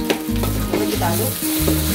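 Fish with tomato sauce and spring onions being stirred in a frying pan for a sweet-and-sour pineapple pomfret dish: loud close sizzling broken by repeated scraping strokes of a utensil against the pan in an uneven rhythm, no talking.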